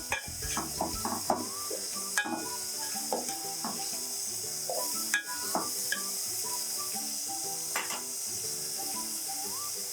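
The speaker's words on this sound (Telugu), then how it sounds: "కొంచెం ఉల్లిపాయలు వేగిన తర్వాత బీన్స్ ముక్కలు వేసుకోవాలి." Sliced green beans added to frying onions in a pan give a steady, close sizzle with scattered clinks and scrapes of stirring, under continuous tonal background sound.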